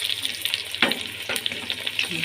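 Chopped ginger hits a hot pan of mixed vegetables, giving a soft steady sizzle with a couple of sharper crackling bursts, fairly quiet and without speech.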